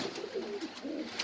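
A Budapest pigeon in a pigeon farm gives a brief, soft, rolling coo, heard close but quiet over a faint airy background.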